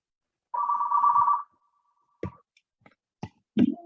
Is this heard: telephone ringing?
yes